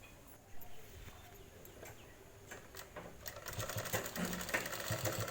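A sewing machine stitches lace onto a blouse with a steady, faint mechanical whir that continues throughout and becomes busier and slightly louder in the second half, with light bird calls in the background.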